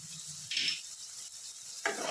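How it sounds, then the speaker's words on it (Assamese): Pan stir-frying with a steady soft sizzle, broken by two louder bursts of scraping and tossing as vegetables and basmati rice with soy and tomato sauces are stirred. "অলপ সময় এইদৰে ভাজি মিক্স কৰি ল'ব।"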